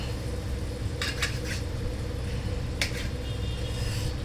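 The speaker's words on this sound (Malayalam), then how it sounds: "ഇനി നമുക്കിതിങ്ങനെ ചെറുതായിട്ടൊന്ന് കട്ട് ചെയ്യും." A knife cuts cooked food into small pieces on a kitchen surface. A few sharp, clicking chops come in a quick cluster, then one more lands a moment later, all over a steady background hum.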